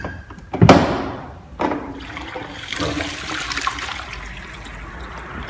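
Water drains from the lifted tank of an IPC Soteco automatic floor scrubber, opening with a sharp clunk and gush, then a steady rushing and trickling flow that continues alone, close and moderately loud.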